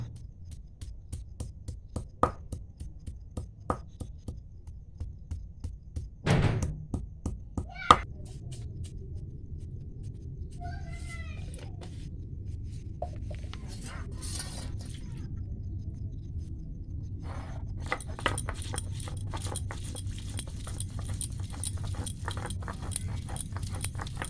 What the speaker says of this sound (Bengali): এবার ধনেপাতা, আদা, জিরে একসঙ্গে বেটে নেব। আমি শিলে বাটছি